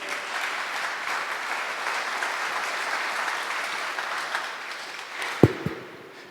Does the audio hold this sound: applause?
yes